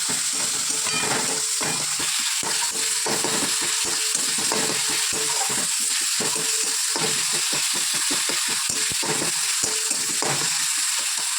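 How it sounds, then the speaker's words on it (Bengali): Onion and garlic paste sizzles steadily in hot oil in a Bengali home kitchen, along with ground green chili and cumin paste. The crackling is loud, close and continuous, with occasional stirring and no talking. "এটা এখন ভালো করে ভাজা ভাজা করবো।"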